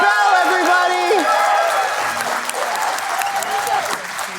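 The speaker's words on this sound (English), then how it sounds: "So please, a really big round of applause, the biggest yet because it's our last speaker" A design event audience gives a big round of applause for the final speaker, steady dense clapping from a crowd filling the room, with a voice speaking over the start.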